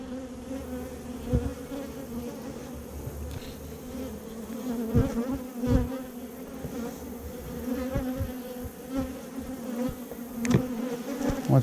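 Honeybees buzz continuously around an open hive during a queen release, a dense, steady drone with individual bees passing close by now and then.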